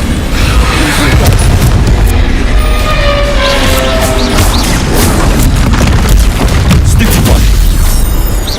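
Confringo fire-spell explosions in the Hogwarts Legacy video game, a dense, loud run of booms and crashing blasts layered over a continuous roar, with fresh hits landing every second or so.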